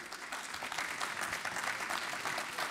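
Applause at an awards ceremony for innovation trophies: a steady, fairly faint wash of many hands clapping, continuous and even throughout the short stretch, with a hint of voices underneath.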